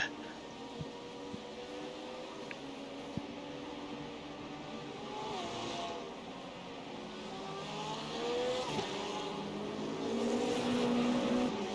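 Race car engines in the iRacing video game at Daytona, several engines droning and rising in pitch through shifts, steady and close, with no talk.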